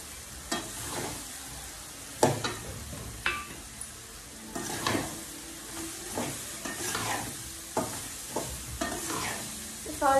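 A spoon stirs mango pickle with salt in a bowl, close scraping and wet clacking strokes repeating at an uneven pace, with no one talking.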